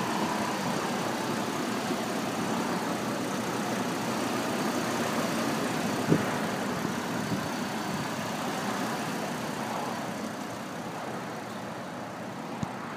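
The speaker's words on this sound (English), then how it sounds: "The Vortec motor." A 2007 Hummer H3 with its 3.7-liter Vortec engine idles under the open hood, a steady, even mid-range rumble holding at constant loudness throughout with no talk over it.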